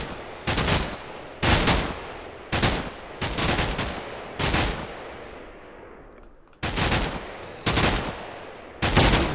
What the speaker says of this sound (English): we are taking fire from somebody else